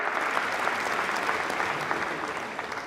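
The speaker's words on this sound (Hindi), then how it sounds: "एक बार जोरदार तालियां हमारी सांस्कृतिक विरासत के वाहक हमारे हस्तशिल्पकारों के लिए" Loud, sustained applause from a large ceremony audience honoring handicraft artisans at a national handicraft awards event, dense steady clapping throughout with no gaps.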